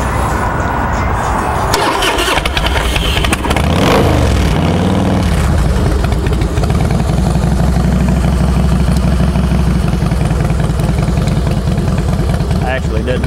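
A cold Harley-Davidson Night Train FXSTB motorcycle engine starts with a revving surge, then settles into a loud, close, uneven loping idle that persists, while a person talks over it.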